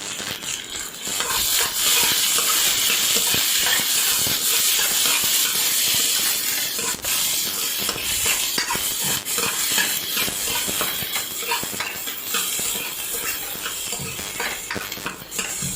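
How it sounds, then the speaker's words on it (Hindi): Onions frying in a pan for Amritsari chicken gravy, stirred with a spoon: a steady close sizzle and hiss with scattered light scrapes and clinks of the spoon against the pan throughout, no talking. "अब हम इसे अच्छे से स्पून के साथ मिक्स करेंगे।"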